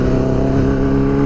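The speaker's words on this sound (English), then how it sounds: "I really like the exhaust on this thing. It's not too loud, but it's not too quiet either." A hardtail bobber chopper motorcycle's exhaust gives a steady, close, moderately loud low drone with an even rumble throughout and no voices.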